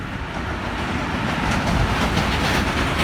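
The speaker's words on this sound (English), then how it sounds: "Freight train for the fourth time. Finally, it's a freight train." Freight train passing in Lamač, a loud continuous rumble with dense rhythmic wheel clatter, close to the track and unbroken for the full few seconds.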